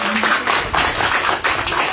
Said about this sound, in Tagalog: bigyan natin ng milyong-milyong palakpak